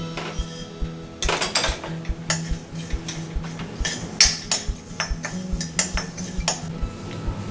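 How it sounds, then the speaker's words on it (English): Sesame seeds being dry roasted in a pan for a curry, heard as close metallic scraping and clinking of a utensil against the pan in an irregular rhythm, with a low steady hum underneath. "In a pan, we are going to add the til seeds"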